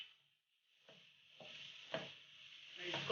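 Carrot halwa with raisins, ground coconut and dry fruit being stirred and roasted in a pan, with a soft steady sizzle and a few scraping stirs, quiet and close.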